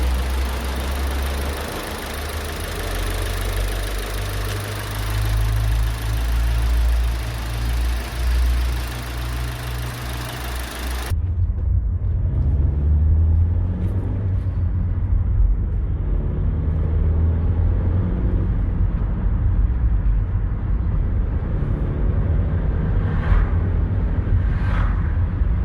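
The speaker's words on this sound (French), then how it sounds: "le démarrage à froid" Car engine cold-starting on E85 bioethanol, a loud steady idle with low rumble throughout, the tone shifting partway as the engine settles.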